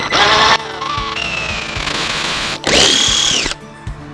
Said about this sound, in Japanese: でもこのタケノコドリル6ミリしかないから6ミリで開けます。